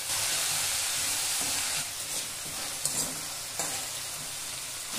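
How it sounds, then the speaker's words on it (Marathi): Finely chopped fenugreek leaves sauté in a pan with a dense, steady sizzle that eases slightly midway, punctuated by a few sharp stirring scrapes and taps. "छान परतून घ्यायची."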